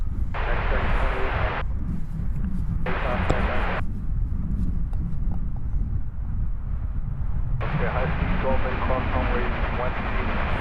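A passenger plane on approach to DFW Airport gives a steady, loud, close jet roar with wind noise, and people talk over it at times.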